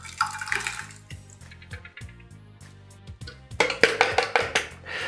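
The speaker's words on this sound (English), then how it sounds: "I'm gonna go ahead and pour this in." Blended mango habanero mixture with rum pours into a pot on a portable stove in a thick, gurgling stream. Clanking and tapping against the pot sound alongside, and the pouring grows louder and splashier near the end.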